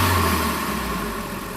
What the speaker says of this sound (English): we should really hear the sound of the turbo now